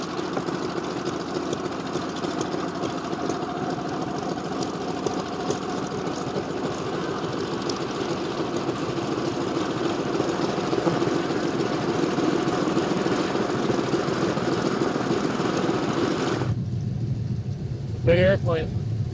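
A World War II airplane engine runs with a loud, steady rumbling roar that continues for many seconds, then cuts off abruptly near the end, while people talk over it.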